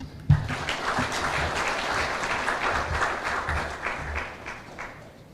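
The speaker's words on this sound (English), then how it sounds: "please a round of applause to our Honorable Prime Cabinet Secretary, Honorable Musalia Mudavadi" Audience applause at a conference for Kenya's Prime Cabinet Secretary Musalia Mudavadi, opening with a sharp clap and holding as a dense, steady roar of hands before thinning toward the end.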